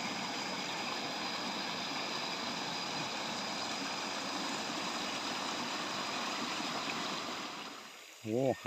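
Steady broadband rush of flowing water, continuous and fairly loud, with a brief interruption and a voice emerging near the end.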